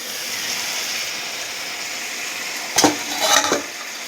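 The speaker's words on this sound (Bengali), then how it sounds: "কালো জিরে ফোড়ন দিয়ে এই হচ্ছে কাঁকরোল ভাজা" Teasel gourd fries in oil tempered with black cumin, making a steady hiss of sizzling. Two brief, louder bursts of stirring and spattering break in near the end.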